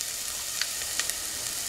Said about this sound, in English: So now that my onions have sauteed a little bit, just going to add my garlic.